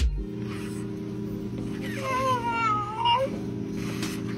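A cat meows in a drawn-out, wavering cry, close by, over a steady low hum.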